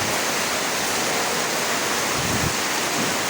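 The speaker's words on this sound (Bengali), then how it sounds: "দেখুন বৃষ্টি কত জোরে বৃষ্টি হচ্ছে" Heavy rain pouring down steadily, a loud, dense, continuous hiss of falling water with no pauses and no voices.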